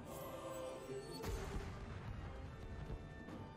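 A grenade goes off in the Worms video game, a booming blast with a rumbling, crackling tail that fills the short moment.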